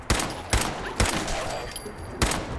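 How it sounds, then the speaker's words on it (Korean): Gunfire in the video game Fallout 4: four sharp, loud shots spaced irregularly about half a second to a second apart, each with a short crackling decay over a steady background. "이 총소리 듣고 올지도 몰라,"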